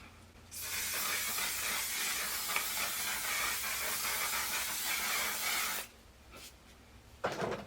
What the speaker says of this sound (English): let me spray it. It's like a hairspray, but it's cool